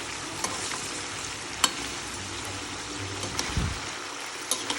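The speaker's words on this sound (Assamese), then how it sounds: "এইখিনি আকৌ এনেকৈ 5 মিনিটমান ভাজিম।" Food frying in hot oil and being stirred in a pan, with a steady close sizzle broken by a few sharp utensil taps and scrapes.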